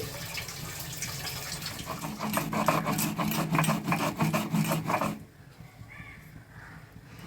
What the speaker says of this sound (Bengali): এর সাথে চারটে কাঁচা লঙ্কা দিচ্ছি আর দিয়ে দিচ্ছি অল্প একটু লবণ এটাকে আমি এখন একটু পিষে নিচ্ছি